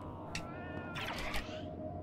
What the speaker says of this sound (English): Where's the cat at? Because I hear you.